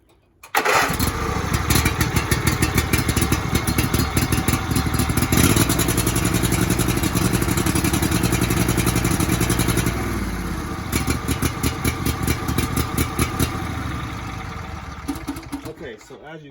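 An engine with a failure problem cranks and fires up in a garage once its fuel line is reconnected, then runs at a loud, rapid, clattering idle that dips and steadies, close to the microphone.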